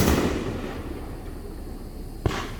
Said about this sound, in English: And we've got a fireworks show Juneteenth.